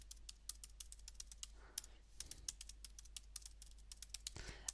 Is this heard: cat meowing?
no